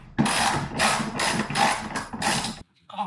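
Ratchet clicking steadily in several short bursts while removing 10mm bolts from a Toyota GR86, close and fairly loud, then a brief pause and a softer sound at the end.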